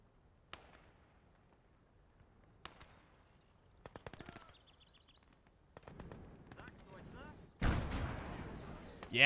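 Grenade explosions go off in the World War II video game Gates of Hell during a PvP match: scattered sharp blasts and cracks, with a heavy, loud burst near the end over background battle noise.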